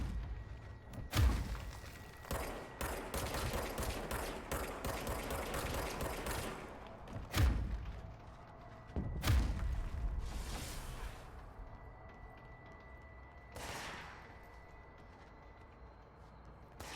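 Gunfire in the third-person shooter Control, with a dense stretch of rapid shots followed by a few heavy isolated thumps and quieter bursts, loud and close.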